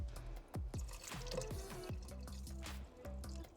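Beef broth glugs from a 32-ounce bottle into a pot of chili, a close, steady pour broken by rhythmic bubbling gulps as air enters the bottle.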